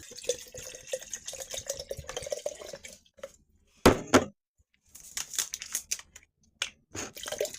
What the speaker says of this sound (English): We're going to put some water on it.